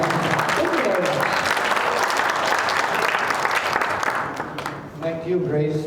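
An audience claps warmly for two distinguished speakers at an event. The applause is dense and sustained and thins slightly near the end, where a voice begins speaking.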